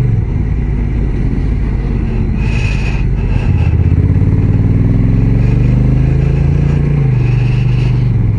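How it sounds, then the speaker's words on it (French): A Honda NT1100 DCT touring motorcycle with an automatic dual-clutch gearbox on a road test, its engine droning loud and steady under heavy wind rush, with the pitch rising as it accelerates. "je fais l'essai de la Honda NT 1100"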